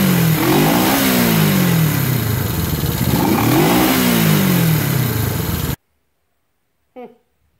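Honda CB350 motorcycle engine runs and revs loudly for several seconds with rising and falling pulses, then cuts off abruptly into silence, followed by a brief voice.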